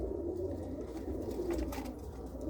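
Racing pigeons coo softly inside a loft, low throaty murmurs repeating a few times at a faint, distant level, with no speech.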